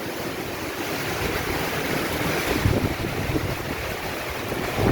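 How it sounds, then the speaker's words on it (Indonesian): Strong wind and heavy rain lash a churchyard in Jatinegara, Jakarta, a loud continuous roaring rush that swells slightly midway, with no voices. "Aduh, angin kencang sekali nih."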